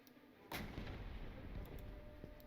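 An FV4005 tank cannon fires once in a video game, a single sharp, heavy boom followed by a rumbling, decaying tail over low background noise.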